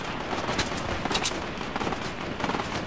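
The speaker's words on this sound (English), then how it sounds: "There's a lot of shooting here, Graham." Rapid gunfire in the shooter game Fortnite crackles nonstop in dense, overlapping shots and bursts that blend into a steady barrage at moderate loudness.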